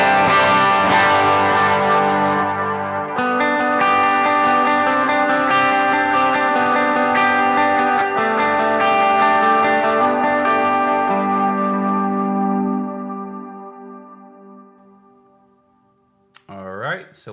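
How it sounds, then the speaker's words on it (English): An electric guitar plays through a Strymon Iridium amp modeler loaded with David Hislop impulse responses: sustained overdriven chords ring out close and loud, then decay to a brief final scrape. "So let's see what we're working with the David Hislop kind of standard sound"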